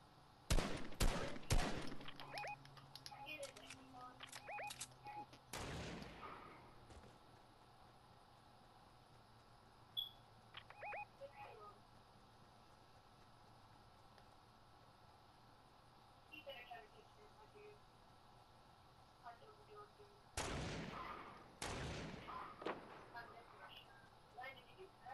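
Gunshots in Fortnite arrive in a quick cluster of loud cracks at the start, then a lone shot, and later two more sharp bursts near the end, with quiet game ambience in between.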